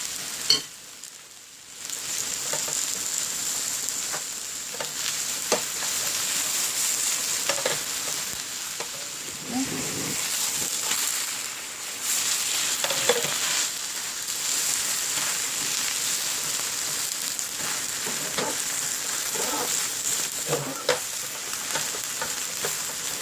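Dongnae pajeon, a green onion pancake coated with a little pancake flour, frying and being pressed down in a pan, giving a continuous crackling sizzle with occasional spatula taps and scrapes, steady and close.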